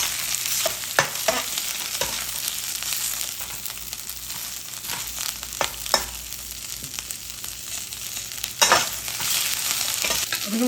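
Beef pepper steak sizzles steadily in a hot pan, a constant loud frying hiss broken by scattered clicks and scrapes of stirring and turning the meat, close up with no talking.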